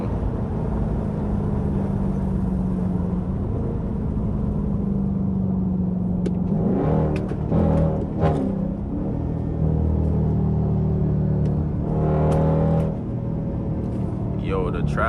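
Loud, continuous low rumble of a straight-piped Dodge Durango exhaust cruising in highway traffic, with steady droning engine tone and a few revving swells midway, close and dominant throughout, with speech-like sounds blending in.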